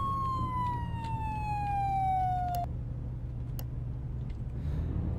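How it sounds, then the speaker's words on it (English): An emergency vehicle siren in the video game Flashing Lights sounds a single long falling wail that cuts off abruptly, over a steady engine rumble, with a couple of faint clicks afterward. "I was trying to remember what my alternate siren was."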